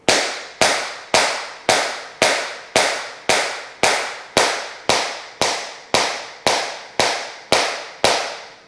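Sixteen crisp, evenly spaced tap shoe ball drops, eight per foot, striking a hard floor, each sharp and ringing briefly, in a steady rhythm with no talking.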